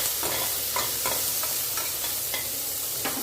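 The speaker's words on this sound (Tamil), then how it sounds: "நல்லா இது வதங்கி கிளம்பி வரட்டும்." Onions and green chillies sautéing in oil for a small-onion kuzhambu, a dense continuous sizzle broken by regular spatula scrapes every half second or so, close and fairly loud, without speech.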